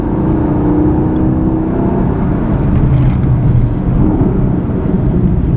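A 2016 Camaro SS with new front brakes rolls through a braking test, giving a loud, steady cabin drone of engine and road rumble that holds with no voices.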